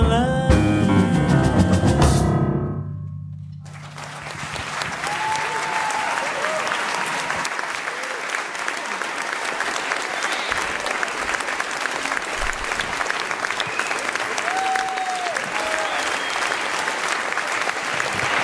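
At the close of a concert at the Théâtre Roger Barat in Herblay, the last sustained music notes fade out. A full theatre audience then breaks into long, loud, steady applause with a few scattered cheers.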